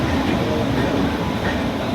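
A train arrives with a loud, steady rolling roar of wheels on rails, close and continuous for the whole short stretch.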